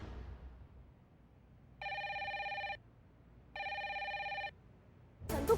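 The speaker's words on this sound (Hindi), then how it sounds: "मैं आईटी में कोई फोन नहीं उठा रहा है मैडम" A telephone rings unanswered in two even, steady bursts with a quiet pause between, faint against low room hum, followed by a sudden thump.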